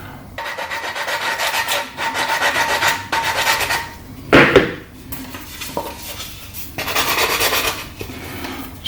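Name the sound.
sanding wood by hand on a Dalek model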